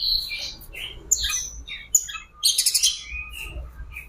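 An unwell oriental magpie-robin (kacer) squawks and chirps in harsh, high bursts close by, with short pauses between calls and a faint low rumble underneath.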